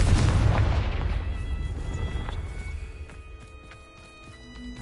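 Confringo fire spell from Hogwarts Legacy, a loud burst and boom that opens the sound and then rolls off into a fading rumble with a few small crackles and chimes after it.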